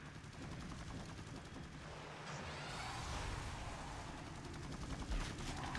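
Gunfire in a video game match on the Power Plant map, a faint, muffled stream of rapid shots and explosions continuing throughout with no voice.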